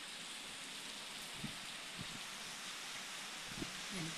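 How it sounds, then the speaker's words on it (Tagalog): Rain falls as a steady, faint hiss with occasional scattered drops tapping nearby. "Ayan po, umuulan."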